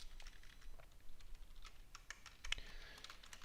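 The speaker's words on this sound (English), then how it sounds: "let me type the rest" Typing on a computer keyboard, a quick run of soft, close key clicks at a low level against faint background hiss.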